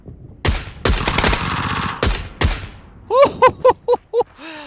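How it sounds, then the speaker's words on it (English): Video game suppressed SLR rifle firing a burst of sharp shots, followed by several rapid muffled cracks with ringing tails, loud and close. "Just destroying those guys with the suppressed SLR there."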